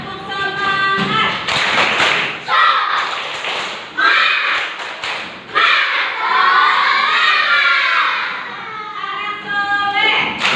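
A class of schoolchildren claps in rhythmic bursts while chanting together loudly and close by, their shouted voices mixing with sharp hand claps and thumps.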